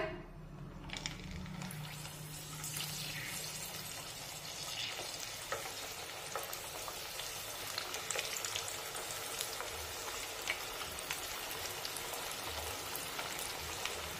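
Bajra methi vadas, millet and fenugreek fritters, frying in hot oil over a medium flame, a dense continuous sizzle and crackle that stays steady and close throughout with no talking.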